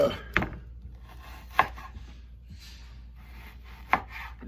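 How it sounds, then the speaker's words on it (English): Knife cutting partly frozen meat into chunks for a grinder: three sharp chops land against a quiet background with soft scraping between them, close and moderately faint. "it's easier to cut like this than it is when it's thawed out"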